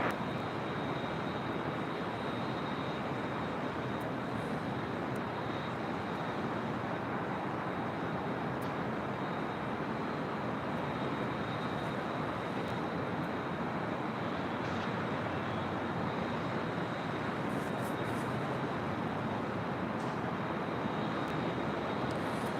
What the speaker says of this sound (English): Oh, Virgin Atlantic A350-1000 snuck in on the south side